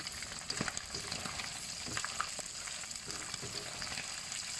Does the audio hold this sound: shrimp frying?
yes